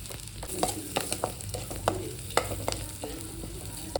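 Garlic, asafoetida and kasuri methi frying in a pan after mustard and cumin seeds have popped, a steady soft sizzle broken by clinks and scrapes of a stirring spoon, close and alone.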